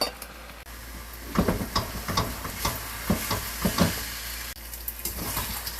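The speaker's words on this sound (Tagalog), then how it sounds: "paghahalo-haluin natin yan" Japchae ingredients stirred in a pan with three tablespoons of cooking oil, giving a steady sizzle with intermittent scraping and clacking strokes of a utensil, fairly close, with no talk.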